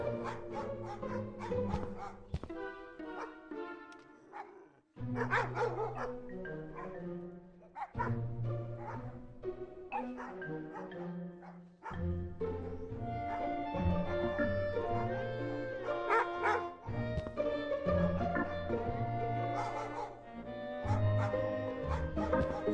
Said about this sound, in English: The animal shelter.